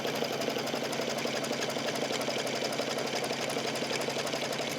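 An embroidery machine stitches an in-the-hoop sticky note pad holder in fabric, a steady, dense whirring drone that runs unbroken and fairly close, with no voices.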